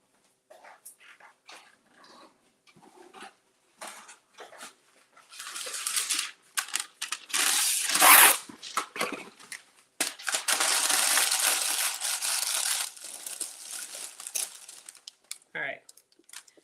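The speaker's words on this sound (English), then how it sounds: "Parchment paper." Sheets of parchment paper crinkle and rustle in bursts while being handled in a kitchen during mango gummy candy making, growing louder and denser midway, with brief speech and a short whimper-like sound near the end.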